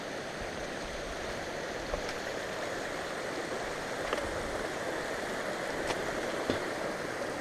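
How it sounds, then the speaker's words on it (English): Continuous rushing of a snowmelt stream and waterfalls, a steady broadband roar with no voices, moderately distant, on a mountain trail from Gunsight to Lake McDonald. "Going through some waterfalls up here from this snow."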